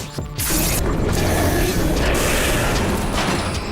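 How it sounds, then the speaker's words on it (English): A cartoon elevator's machinery runs as a loud, steady mechanical grinding and rumbling, starting abruptly after a brief quiet moment and continuing unbroken with a rattling, ratchet-like texture throughout. "Looks as if the elevator works just fine."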